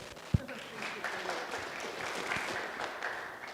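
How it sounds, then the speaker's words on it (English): Audience at an international rehabilitation and health promotion conference clapping for a speaker, a fairly quiet, even patter of hands with a sharp thump near the start and faint voices underneath. "A big applause for her."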